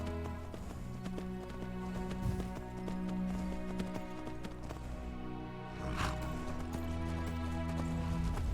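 Horse hooves clip-clop steadily in the Skyrim video game near a town stable, a moderate rhythmic patter over a constant bed of game music and ambience.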